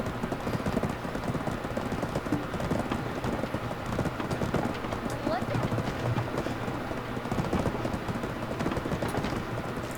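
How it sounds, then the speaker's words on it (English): Horse hooves clip-clop steadily on pavement in a video game (Black Desert Online) amid a busy bustle of clattering, clicking cart wheels and a murmur of voices in the background. "you can hear the carts clattering and clicking on the pavement, the horse hooves"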